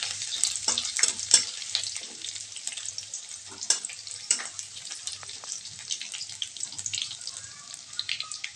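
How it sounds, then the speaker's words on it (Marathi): Garlic fries in hot oil while being stirred and turned, a bright crackling sizzle with frequent scraping taps of the spoon against the pan, close and continuous. "लसणाला थोडंसं कलर लाल येईपर्यंत थोडं मी हलवून म्हणजे खाली मग परतून घेणार आहे लसणाला"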